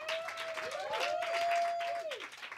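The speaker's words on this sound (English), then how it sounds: "We'll have a bit more clapping, thank you very much." An audience at the BAFTA awards applauds the documentary filmmakers of 20 Days in Mariupol, sustained clapping throughout, with a gliding tonal whine running over the applause.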